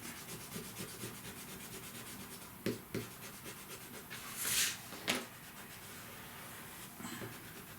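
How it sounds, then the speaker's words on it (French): Eraser rubbing pencil marks off paper for a scrapbooking page, soft repeated scrubbing strokes at low level with a couple of brief louder swipes and taps, close and without speech. "on efface toutes nos marques"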